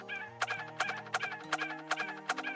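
Notification sounds from the video game Communite, a burst of bright, chirpy cartoonish chimes repeating in a quick regular rhythm over soft sustained game music, faint in the mix.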